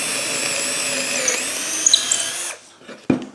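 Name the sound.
Festool cordless drill drilling hole through tulip wood block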